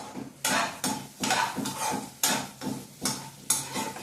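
Food fries in oil in a pan under regular stirring, with about eight rhythmic scraping strokes over a soft sizzle, heard close up.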